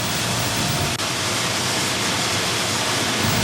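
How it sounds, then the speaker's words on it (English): Water spraying onto a freshly cast steel section leaving the mold of a continuous caster in a steel mill, a loud, steady broadband rush with no break across the whole stretch. "As the section exits the mold, it's cooled with sprayed water until it is completely solidified."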